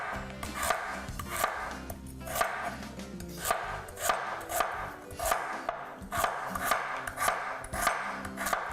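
Knife chopping food on a cutting board while preparing curry, a rapid rhythmic series of crisp close knocks in quick bursts with brief pauses between runs.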